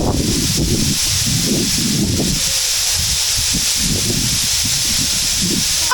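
Water flows over stones in a fountain at Villa Escudero, a loud, continuous hissing rush close by with a low rumble underneath and no break.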